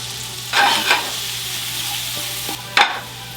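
Duck breast frying in garlic butter in a pan over high heat, a steady close sizzle with louder bursts of crackle as the pieces are turned, no voices.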